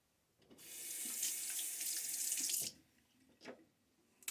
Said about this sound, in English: And rinse.